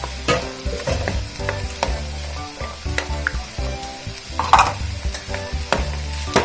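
Corn kernels and tomato being stirred and sizzling in a pan, with steady frying hiss and repeated scraping stir strokes, close and loud, with no talk.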